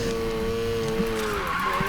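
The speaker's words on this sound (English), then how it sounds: "I press brake, and then I hit the handbrake, and then I drift out" Car tires squealing through a handbrake drift in the racing game Need for Speed Payback, a sustained loud screech over a droning engine tone that wavers slightly and runs without a break.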